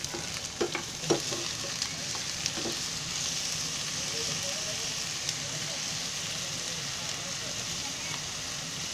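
Chopped potatoes and onion frying in a pan for pharsan chivda bhaji, a continuous close sizzle broken early by several knocks and scrapes of stirring, then settling into a steady crackle, with a voice faintly present.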